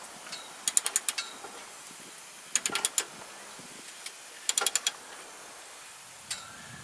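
Three bursts of sharp metallic ratcheting clicks ring out as a homemade breaker bar, struck on its end, works tight bolts loose on a Jeep Wrangler YJ during a lift kit install, with a lone click near the end.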